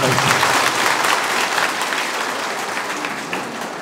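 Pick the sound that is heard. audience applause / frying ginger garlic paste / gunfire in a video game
audience applause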